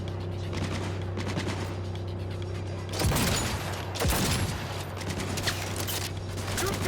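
Automatic gunfire in a Cyberpunk 2077 street shootout, a loud continuous rattle of rapid shots over a dense, steady background, with two heavier booming bursts around the middle.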